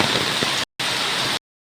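Steady rain patters on surfaces outdoors near a parking area, a dense even hiss broken by two abrupt silent gaps, with no voices.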